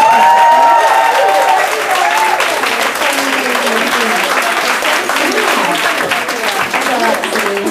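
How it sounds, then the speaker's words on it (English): A comedy show audience gives a loud, sustained round of applause, dense clapping that continues for the whole stretch with faint voices underneath. "Can we have another round of applause?"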